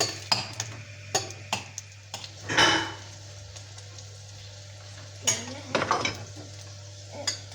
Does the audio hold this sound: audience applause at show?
no